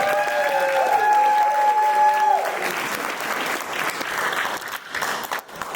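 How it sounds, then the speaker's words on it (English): Applause fills a room at a family gathering, a dense steady clatter of many hands that tapers off over several seconds. A few voices are briefly heard over it near the start. "Let's give him a big round of applause, ladies and gentlemen."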